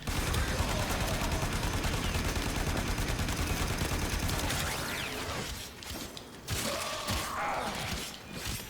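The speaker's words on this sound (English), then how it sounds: "Keep putting this bolter to good use." Rapid bursts of bolter gunfire in Warframe, a dense sustained fusillade with mechanical clatter that breaks off into scattered shots and pauses near the end.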